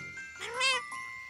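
Cartoon kittens give a single rising-and-falling meow, high and tonal, close and fairly soft.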